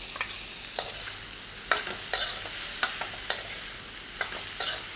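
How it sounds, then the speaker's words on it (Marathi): Onion and tomato sautéing in a pan for an egg curry gravy, with a steady soft sizzle and intermittent sharp spatula scrapes and taps against the pan, close by and without any talk. "हे छान परतून घ्यायचं आहे कारण ह्याचीच आपली ग्रेव्ही तयार होणार आहे"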